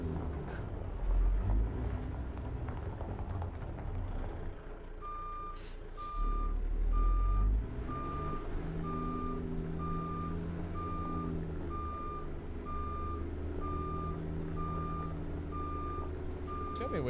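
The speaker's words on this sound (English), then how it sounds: "the way to turn his fucking backup beeper off. It's annoying as shit." Steady electronic backup beeper from a reversing truck in a video game, repeating evenly for about twelve seconds over a low engine rumble, with a brief air-brake hiss just before the beeping starts.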